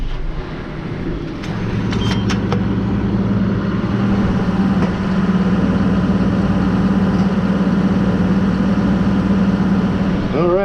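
A farm tractor's diesel engine idles close by with a steady low rumble and droning hum, continuous throughout, with a few faint clicks early on.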